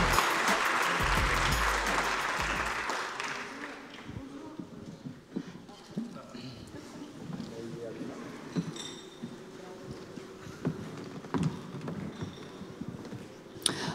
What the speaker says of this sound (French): Donc, Béatrice, on les applaudit effectivement.